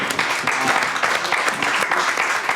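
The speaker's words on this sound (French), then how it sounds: "voici Rachid Badouri, on l'applaudit tout le monde" Steady applause from a comedy show audience greeting comedian Rachid Badouri, a dense wash of many hands clapping continuously at moderate volume.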